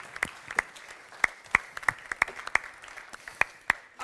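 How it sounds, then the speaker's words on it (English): Sparse, scattered hand claps from a small audience welcoming a speaker, individual claps distinct and irregular rather than a full ovation, with no talking. "let's just give a round of applause and a warm welcome to Deirdre McCloskey"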